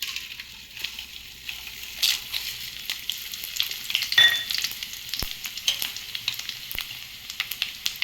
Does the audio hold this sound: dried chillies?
yes